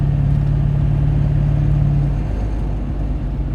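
A pickup truck with an LB7 engine drones loudly up close, a deep rumbling roar with a steady hum that shifts as the truck accelerates.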